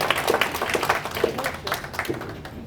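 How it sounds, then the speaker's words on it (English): An audience gives a round of applause to breakfast volunteers at a morning gathering, a burst of scattered, moderately loud clapping with no voices. "Let's hear another round of applause for Jim McCrae and all the volunteers that helped with the breakfast this morning."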